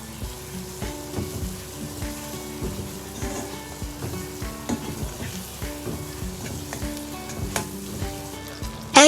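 Paneer bhurji masala with haldi and coriander powder fries in a pan, Amritsari street-food style. A steady, close sizzle runs throughout, broken by repeated scraping and stirring clatters.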